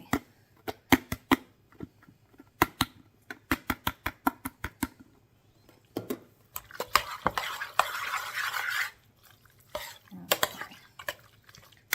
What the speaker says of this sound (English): And I'm mixing the gravy in here